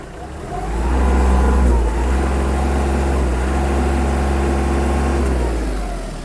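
Kubota GL-240 mini tractor with factory cab, its diesel engine revved up from idle to a steady higher speed, held close and loud for several seconds before easing back slightly.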